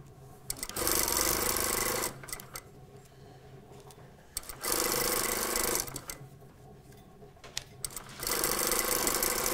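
A sewing machine stitches a skirt toile seam in three sustained runs separated by short pauses, each burst a steady, close mechanical whir at fairly low volume.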